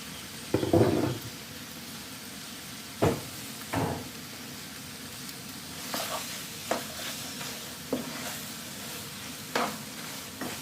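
Curry crab with scallions and red and green chilies sizzles in a pan while a utensil scrapes and stirs in intermittent strokes, close and fairly quiet, with no talk.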